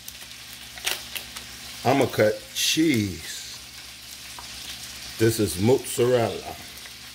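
Chicken parmigiana pieces frying in a pan, a soft steady sizzle running under intermittent talking, with a few knocks and clicks.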